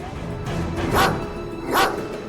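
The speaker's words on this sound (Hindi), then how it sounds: "वो बुरा कुत्ता तुम पर भौंक रहा है।" Two sharp dog barks ring out about a second apart over steady background music, moderately loud.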